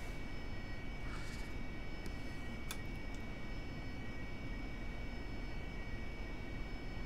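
A jet taxiing back to parking in the DCS combat flight simulator, heard as a steady broadband engine drone that stays even throughout, with a few faint clicks partway through and no talking.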